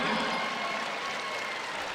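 Applause from West Side fans as a girls' state championship basketball game ends, a steady, somewhat distant wash of clapping with crowd noise.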